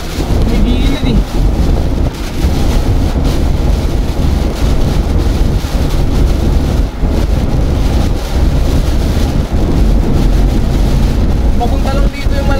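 Strong typhoon wind buffets the microphone in a steady, loud roar with gusty rumbling low down throughout, rushing like water, while a voice talks faintly beneath it.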